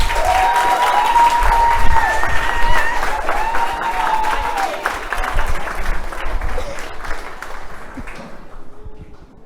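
Conference audience clapping for graduate research presenters at a live university showcase, a loud, dense round of applause with a few voices in the crowd that gradually thins and fades out toward the end.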